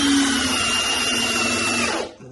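Makita cordless drill, a DHP482 or DDF485, running flat out at full speed with a steady high-pitched whine and motor hum that holds for about two seconds, then winds down abruptly.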